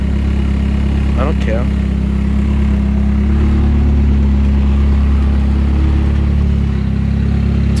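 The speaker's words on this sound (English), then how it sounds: "It's probably bad that I have this tarp on my engine when it's running right now" A drift car's engine idles steadily and loudly in a driveway with a tarp draped over it, a constant low rumble throughout. Someone speaks briefly over the running motor.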